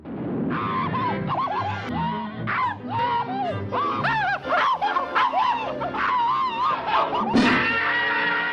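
Cartoon-style screams and yelps from a Tom and Jerry cartoon, voiced by William Hanna, come as a rapid run of shrill wavering cries and squeals, loud and close with little pause between them.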